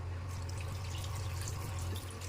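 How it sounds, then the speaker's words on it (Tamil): Water is poured into a pan of crab cooked with masala, giving a soft, continuous trickling and splashing that is close and quiet over a low steady hum. "இப்போ நண்டுக்கு தேவையான அளவுக்கு தண்ணி ஊற்றி வேக விட்டுக்கலாம்."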